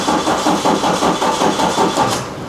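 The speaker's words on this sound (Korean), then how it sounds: "일단 시동을 한번 걸어 볼게요" A BMW 520d diesel engine with low fuel rail pressure cranks without catching: the starter churns in a steady, loud, rhythmic chug of repeated compression pulses up close, never firing into an idle.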